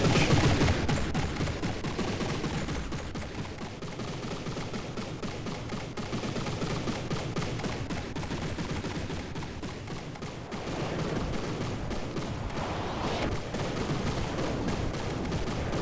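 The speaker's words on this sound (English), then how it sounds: "You can hear those advanced custom cannons firing away, just super rapid fire, and dishing out a ton of damage." Advanced custom twin cannons in a King of the Hill video game match fire in a dense, relentless rapid-fire barrage, several rounds per second, loud and continuous for the whole stretch with no talking.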